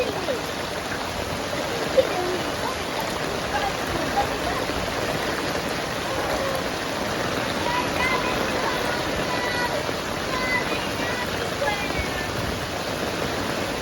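Floodwater rushes steadily along a street in Tai Po, Hong Kong, during heavy night rain, making a continuous broad watery roar with one small knock partway through.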